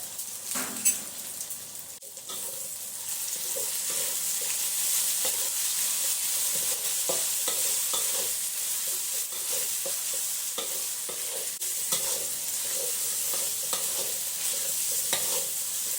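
A paste of ground chili, lemongrass and belacan sizzles in hot oil for nasi goreng, frying steadily in a pan with light stirring and scraping, close and continuous with no talk.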